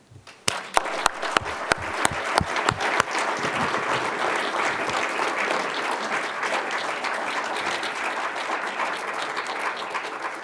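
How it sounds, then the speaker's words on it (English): An audience bursts into applause after a lecture on Marine general O.P. Smith, opening with a few sharp individual claps that quickly swell into sustained, dense clapping from a large crowd, steady and fairly loud throughout. "Please join me in applauding him."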